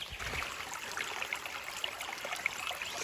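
A small stream in mountain bushland trickling and babbling over stones, a steady close wash of water with light splashy detail, alone without talk.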